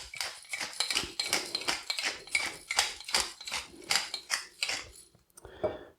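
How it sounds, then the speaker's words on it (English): Black pepper ground in a pepper mill, a rapid run of dry ratcheting crunches close up with no talk, stopping near the end. "a couple of grinds of black pepper"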